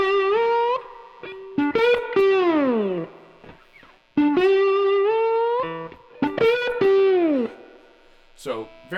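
An electric guitar in open E tuning plays a distorted slide-style riff, with repeated phrases of bending notes separated by short pauses.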